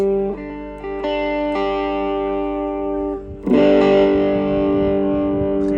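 An electric guitar plays sustained, distorted chords through a Koko Overdrive pedal, ringing out loudly before a heavier strum near the end.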